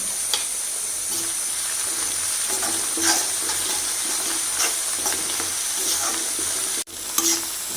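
Chopped green chillies and curry leaves sizzle in hot oil in a pan while beef pickle is being made, a steady close crackling fry with light stirring and a sharp clink near the end.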